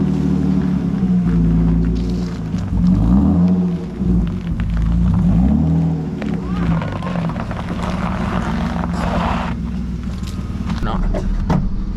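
A BMW E36 M3 rolling backward with a steady low engine rumble and shifting revs, the drone continuous throughout while people talk nearby.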